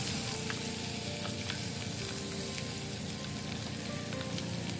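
Potatoes sautéing in a pan with salt and turmeric, a steady close sizzle and crackle of frying with light stirring scrapes, no voices.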